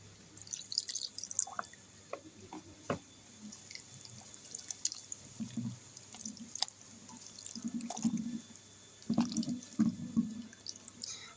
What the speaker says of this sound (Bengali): আমি মশলার বাটি ধোয়ার জলটা এবার দিয়ে দেবো